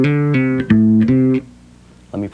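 An electric bass guitar plays a short descending minor pentatonic measure with hammer-ons and pull-offs, a few quick legato notes up close, a pause, then one more brief note.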